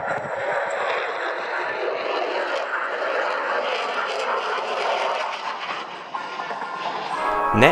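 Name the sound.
SoloTürk Turkish Air Force F-16 display aircraft flying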